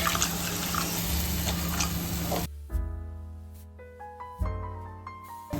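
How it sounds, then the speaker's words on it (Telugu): Water poured into a hot pan of coconut and sesame paste for bagara baingan gives a loud, rushing sizzle for about two seconds before cutting off, followed by clear tonal notes. "అందులోనే కొంచెం వాటర్ పోసి"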